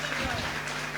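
A church congregation claps together in thanks during a Hindi worship service, a short dense burst of applause with voices mixed in, close and fairly loud.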